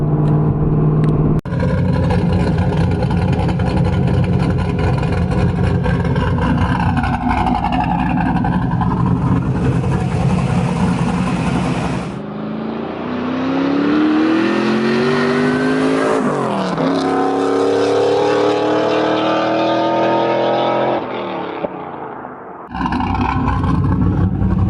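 A Pontiac WS6 engine revs hard through a dyno pull. The loud, sustained roar climbs in pitch as it accelerates, drops briefly around the midpoint, then rises again in a long sweep and cuts off near the end.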